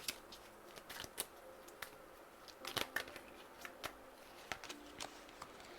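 Tarot cards are shuffled and drawn, giving faint, quiet riffling flicks and sharp card snaps in irregular bursts, with no talking.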